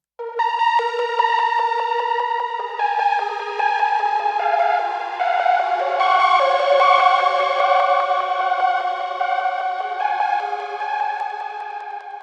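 Synth lead melody drenched in Valhalla Supermassive reverb, sustained bright notes swelling into a wide, washy ambient tail that plays continuously and fairly loud with no voices.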